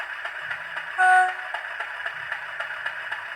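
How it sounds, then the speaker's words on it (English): A Hornby Class 50 model locomotive's TTS sound decoder gives a brief, high-pitched horn toot once over a faint background hum, short and clear. "And the F22 is the horn high,"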